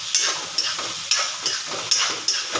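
Onions sizzle in a pan while being stirred, with rhythmic scraping strokes about every half second over a continuous close frying hiss.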